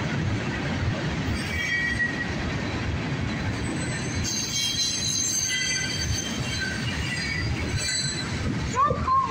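CSX northbound mixed freight train rolling past close by, a steady loud rumble of wagons with faint wheel squeal and rail clatter, continuous throughout; a brief voice near the end.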